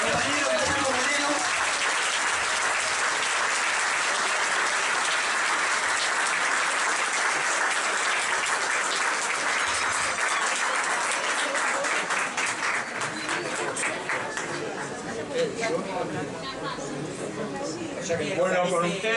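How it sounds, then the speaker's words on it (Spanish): An audience at a talk in a café applauds a speaker, with dense, loud clapping sustained throughout and slowly thinning toward the end, with voices mixed in. "Pido un fuerte aplauso para el compañero Guillermo Moreno."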